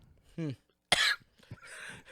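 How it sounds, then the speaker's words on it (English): A short voiced sound and then one sharp, harsh cough close by, followed by some quieter breathy rasping. "He still has a cough."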